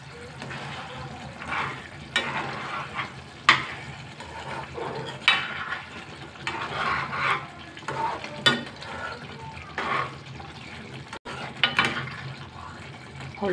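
Brinjal masala cooks in a pan over a low flame, with soft sizzling and intermittent scraping and stirring strokes that come in uneven bursts, fairly quiet and close.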